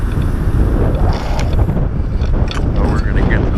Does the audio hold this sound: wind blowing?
yes